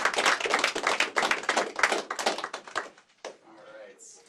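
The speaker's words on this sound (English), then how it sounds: "Let's do a round of applause while I pick up my microphone." Applause from a seminar audience after a robotics talk: brisk, fairly close clapping from a modest crowd that thins out and stops after about three seconds, followed by faint handling noise.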